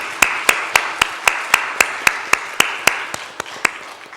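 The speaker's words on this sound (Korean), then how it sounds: "이들을 위해서 감사의 박수를 한번 하겠습니다." A church congregation claps together in thanks, a steady stream of sharp claps at an even, brisk beat of roughly four per second, holding level to the end with no voices over it.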